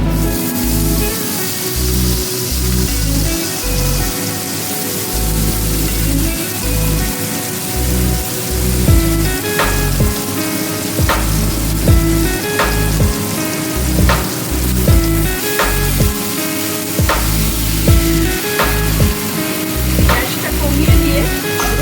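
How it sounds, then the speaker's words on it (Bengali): Spice paste frying in hot oil for prawn malai, stirred in the pan: a loud, continuous rain-like sizzle with scraping strokes and occasional clinks, no talking. "মশলাটা আমি ভালো করে কষে দিই।"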